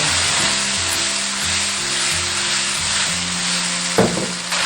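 Fish bones and green ginger sizzling loudly in cold-started oil in a wok, a steady dense frying hiss with a brief clatter near the end.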